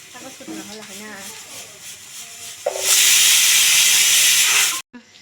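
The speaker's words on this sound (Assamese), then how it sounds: "এয়া মই ফুচকা ভাজি আছোঁ, আমাৰ ৰেডিমেড" Readymade puchka (pani puri) shells dropped into hot oil, a loud, steady hiss of frying that bursts up midway and holds for a couple of seconds before cutting off, with talk at the start.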